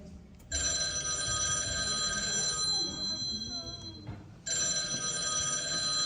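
A telephone bell rings loudly in a domestic setting, a long sustained ring with a brief gap before it resumes, some faint background noise and no talk.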